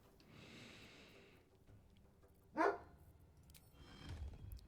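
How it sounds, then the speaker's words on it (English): A single short, sharp bark from a puppy in the Baldur's Gate 3 video game, rising briefly out of a low, murky background hum about halfway through. "barking puppies"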